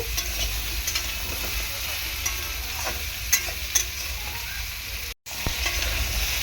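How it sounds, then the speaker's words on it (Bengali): Prawns and tender ridge gourd sautéing in a pan, a continuous close sizzle with a few soft stirring scrapes and a brief dropout near the end. "ভালো করে কষিয়ে নেব"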